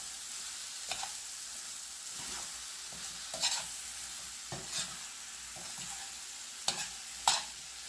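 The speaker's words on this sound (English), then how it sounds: "Keep sauteing it." Onions and tomatoes sauteing in a pan for a Kerala fish-in-banana-leaf dish, a soft continuous sizzle broken by occasional scraping stirs, fairly quiet and with no speech.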